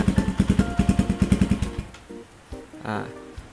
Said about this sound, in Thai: มาฟังเสียงท่อกันเลย